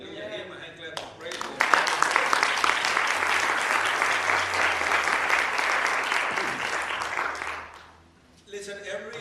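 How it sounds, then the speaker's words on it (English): A church congregation claps in praise, a loud, sustained burst of many hands that swells in after a sung or spoken line, holds steady for several seconds, then drops away before a voice resumes. "Give him a hand clap of praise."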